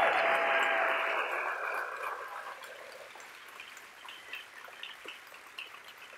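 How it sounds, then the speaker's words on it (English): Audience applause for Carol Christ's morning keynote at a NOW conference, a loud dense clapping that swells at first, then thins and fades over a couple of seconds, leaving scattered faint claps and room noise. "I was going to say give her a round of applause, and you beat me to it"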